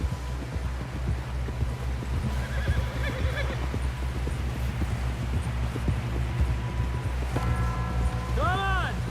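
In the Red Dead Redemption 2 video game, a horse gallops with steady hoofbeats under wind, then whinnies sharply near the end. Voices talk faintly in the background.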